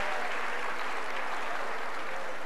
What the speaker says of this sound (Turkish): Alkışlarınızla Manzura Kadirova bizlerle birlikte olacak